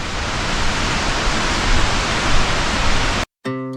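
A waterfall on the Tiger's Nest hike in Bhutan, seen from a bridge, roars as a loud, steady, close rush of falling water that cuts off abruptly near the end, followed by a brief different sound.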